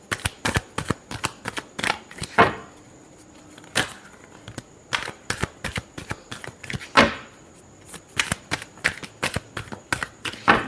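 A deck of tarot cards is shuffled over and over, close and crisp, with bursts of riffling and sharp snaps coming in quick irregular clusters and short pauses between.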